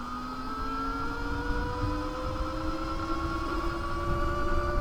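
A 48-volt electric bike pulling away from a start gives a steady electric motor whine whose pitch climbs smoothly over about five seconds, with a constant rushing hum underneath and no voices.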